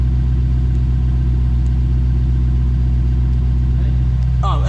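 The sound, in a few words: Lexus RC-F revving with PowerFlow valvetronic stainless exhaust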